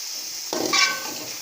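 A spoon stirring tomato paste and green chillies in a frying pan, with a faint sizzle, then a single scraping clatter and brief clinks before the sizzle settles.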